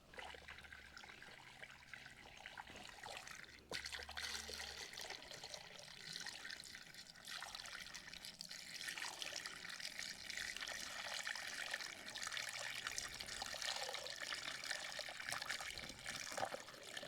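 Water steadily trickling and dribbling as it leaks from an engine after filling, a continuous close splashing flow that holds at an even level throughout.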